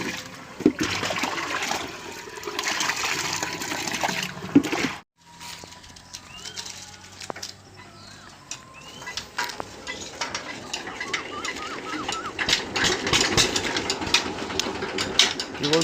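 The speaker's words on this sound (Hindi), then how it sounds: "अपना पीटर इंजन स्टार्ट करते हैं और साथ आपको भी दिखाते हैं" A Peter diesel engine starting up to drive a village tubewell pump, with a rapid mechanical chatter, a brief drop out, then steady running churned by splashing, gushing water that grows louder over the clip.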